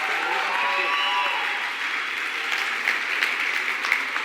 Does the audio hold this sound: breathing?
no